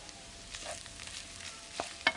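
Broccoli, sweet corn and carrots sizzle softly in a pan on the stove, a low continuous crackle broken by a few louder pops and stirring clinks near the end, with no talk.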